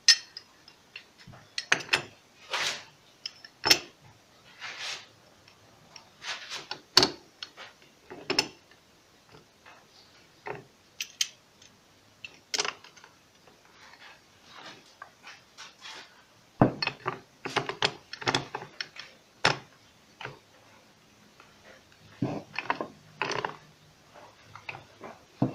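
Small wrench working a nut off the pipe of a submersible pump that won't start and only vibrates, giving irregular close metallic clicks and ratcheting ticks in scattered bursts.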